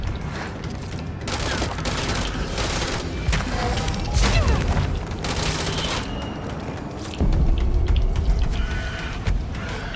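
Sustained bursts of gunfire from the video game Control, loud and continuous for the whole stretch, with heavier booming volleys and clattering mechanical sounds layered in.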